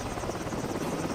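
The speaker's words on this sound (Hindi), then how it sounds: "वो दौड़कर हेलीकॉप्टर में बैठ गए और वहां से भागने लगे।" A cartoon helicopter whirs steadily as it flies off, a continuous buzzing rotor drone heard alone at moderate loudness.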